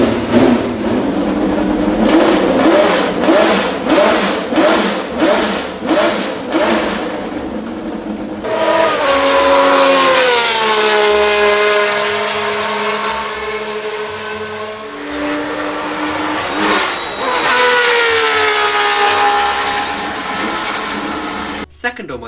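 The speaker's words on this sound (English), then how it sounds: "The 3-litre, 12-cylinder engines powered Ferrari's cars from 1975 to 1979." Ferrari 3-litre flat-12 Formula 1 engine from the 1975–1979 cars, loud and close, first a rapid pulsing idle-like burble, then long high-pitched screaming revs that climb and fall twice before cutting off.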